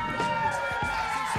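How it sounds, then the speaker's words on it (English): Audience at a slam poetry competition cheers and claps for the next poet, a dense, steady wash of crowd noise across the whole brief moment, with voices mixed into the din. "Give a big round of applause for Henry Dickmeyer"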